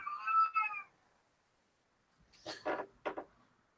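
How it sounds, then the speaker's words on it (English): A cat meows twice indoors, first a drawn-out tonal meow, then after a silent pause a pair of shorter, rougher meows, close and clear with no talk. "Cat sounds."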